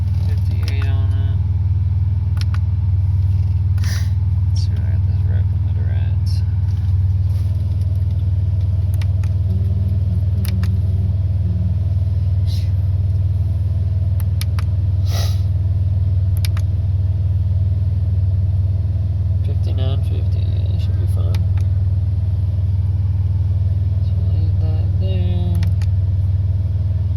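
A GTP car fitted with a 3 inch downpipe and swapped supercharger pulleys idles loud and rough with a deep steady rumble, a few revs rising over it and occasional clicks and knocks nearby.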